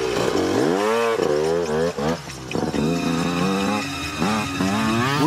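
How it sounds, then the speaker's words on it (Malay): A motorcycle with a loud, revved exhaust rumbles past close by outside a prayer house, its engine note rising and falling over about five seconds beneath music and voices. "Budak tu kalau lalu depan surau, mesti dia nak kuatkan bunyi exhaust dia tu."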